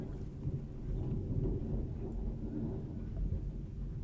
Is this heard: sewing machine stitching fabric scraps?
no